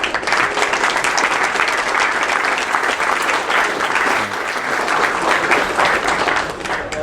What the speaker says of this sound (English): Please give him a warm welcoming applause.